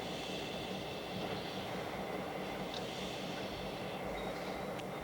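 A Canadian Pacific westbound passenger train stands at the old station at Field on the Laggan Sub, heard as a steady distant rumble and hiss with faint squeals of wheels and brakes. No voices are heard.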